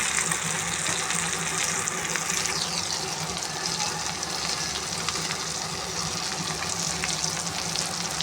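Aloo matar tikki, potato and pea patties, frying in a pan over low heat, giving a steady, dense, close sizzle with no pauses and no talking.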